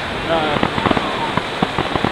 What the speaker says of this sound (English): the guys that are launching their fireworks off their balconies